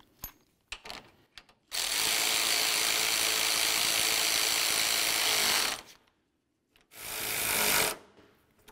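Power tool driving 10 mm bolts on a 2003-2006 Chevy Silverado headlight mounting bracket, a few short clicks followed by a loud steady whir lasting about four seconds, a pause, then a shorter burst.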